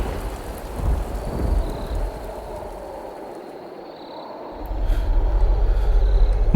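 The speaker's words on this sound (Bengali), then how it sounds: "হঠাৎ বাজ পড়ল বাইরে।" Thunder rumbles and heavy rain pour steadily outside, a deep roll swelling early, easing to a quieter stretch, then a loud downpour and rumble surging back near the end, with no voices.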